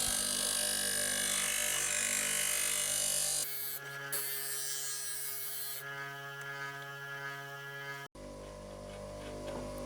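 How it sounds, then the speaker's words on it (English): A bench grinder shapes the cutting iron of a vintage hand plane, a steady motor hum with tonal whine and a shifting grinding hiss as the steel meets the wheel, loud and continuous with no talk. "I use a bench grinder to shape it and create cutting edge."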